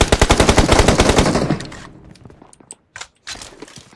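Rapid automatic gunfire in PUBG Mobile, a close, loud burst of evenly spaced shots for about a second and a half, then fading to scattered faint shots and footsteps.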